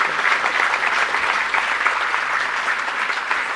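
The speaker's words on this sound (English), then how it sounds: "Ladies and gentlemen, please give him a loud round of applause." Audience applause at a fellowship conferment ceremony, a dense, steady wash of many hands clapping at even loudness for the whole stretch, fairly close and with no speech over it.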